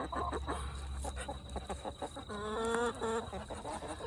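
Chickens, ducks and Muscovy ducks gather in a farmyard flock, clucking and calling near the listener, with a sharp rising squawk partway through over steady background hum.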